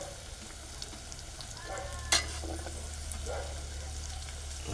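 Chopped onion goes into a hot pot of oil for amla dal and sizzles steadily. A sharp clatter comes partway through, then a soft stirring hiss continues at low volume.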